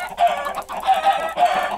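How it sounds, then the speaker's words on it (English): Chickens in a video game cluck and squawk in loud, close bursts, three honking calls in quick succession with no talking. "Alright, chickens, you are very loud."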